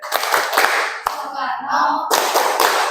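A group of people performing the Tepuk Presiden clap game during an Indonesian ice-breaking session, with bursts of close, rhythmic hand claps and voices chanting along.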